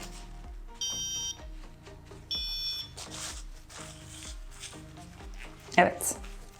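A Pinoo water overflow sensor's buzzer sounds two short shrill beeps, then falls silent amid light handling noise and a brief clatter near the end.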